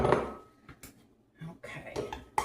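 A bowl being pulled out of a cupboard among stacked dishes, with a few sharp ceramic clinks and clatters separated by short pauses.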